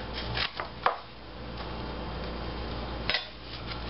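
Knife chopping vegetables into big wide pieces for green chili soup on a cutting board, with a few distinct close knocks of the blade standing out over a steady low kitchen background.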